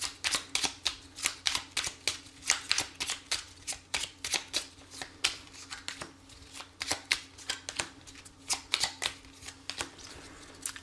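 Blue Star oracle cards are shuffled close up in a quick, rhythmic run of papery riffles and flicks that repeats steadily for about eleven seconds, with no one talking.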